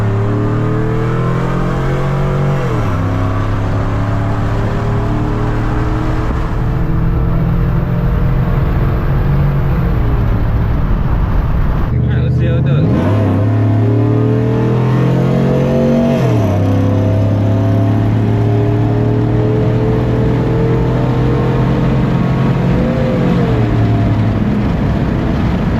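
A cammed 6.0L LY6-swapped Chevrolet Silverado truck pulls hard under acceleration, its engine note climbing through the gears with a short break at each crisp shift. The exhaust runs loud and close throughout, and no one speaks.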